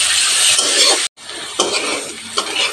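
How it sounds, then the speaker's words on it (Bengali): Half-boiled potato strips fry in hot oil in a pan, a loud, close sizzle interrupted by a brief gap, then continuing with stirring scrapes and clinks of a utensil against the pan. "আলু লাল লাল করে ভেজে নিয়েছি"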